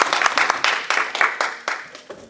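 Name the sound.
encouraging applause in class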